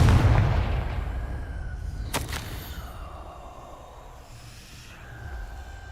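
A Confringo blasting spell in Hogwarts Legacy goes off as a single sharp crack, followed by a fading rumble and a faint lingering tail, with no talk.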